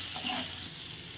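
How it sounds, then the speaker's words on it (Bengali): Eggplant slices seasoned with salt and turmeric fry in hot oil over a raised gas flame, a brief, soft, close hiss that eases slightly midway, with no talking. "দিয়ে এবার বেগুনগুলো ভেজে নেব।"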